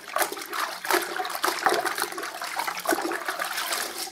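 A cloth being rinsed in a bucket of water, used to clean off undercoat plaster and heavy sediment, gives close sloshing and swishing splashes in uneven bursts, with no voices.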